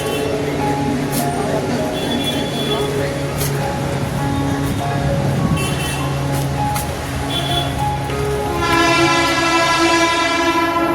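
Busy platform ambience at Dahisar railway station: a train rumbles and clatters nearby, horn tones sound, and a loud tonal signal rises near the end, with voices in the background.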